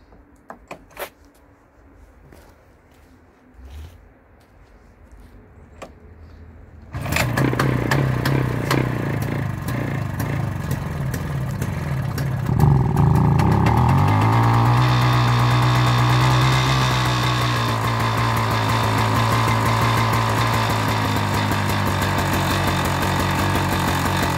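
A small garden tractor's engine, just fitted with a repaired leaking plastic fuel tank, cranks with clattering bursts, catches loudly and keeps running at a steady drone, its pitch rising and then holding an even idle.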